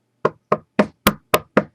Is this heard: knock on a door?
yes